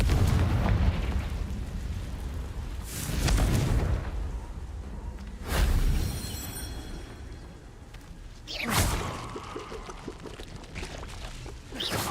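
Confringo blasting spells from the Hogwarts Legacy video game go off as four loud explosive bursts at uneven intervals, each a sharp crack with a rumbling tail, set against a steady game-world background.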